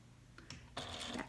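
Sewing machine stitching a fabric slip pocket, a few quiet mechanical clicks followed by a brief faint whirring burst as it slows to a stop, close and soft.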